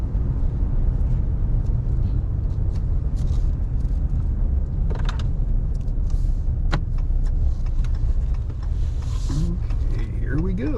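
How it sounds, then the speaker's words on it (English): Pickup truck rolling along an icy, snowy road in four-wheel drive, a steady loud low rumble of engine and tires with occasional creaks and clunks from the cab. "I will pop the truck back into four-wheel drive for the last few hundred yards of this trip"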